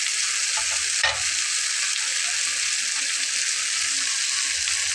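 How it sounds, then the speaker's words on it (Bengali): Chopped ridge gourd fries dry in a pan, giving an even, continuous hiss and sizzle as its released water cooks off, with one brief clatter of stirring early on. "যে পানিটা বেরিয়েছে পানিটা একদম শুকিয়ে ভাজা ভাজা করে নেব"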